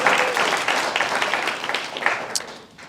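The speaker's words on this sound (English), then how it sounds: "Let's give Heather a round of applause." A guide dog class celebration audience claps for a class supervisor, a moderate burst of applause that thins and fades toward the end, with a faint voice underneath.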